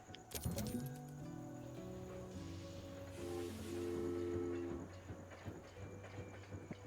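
Train in the Super Loco World automation game runs along the track, a steady rumble carrying a clear multi-tone horn blast that sounds in stages over several seconds, with a brief clatter at the start.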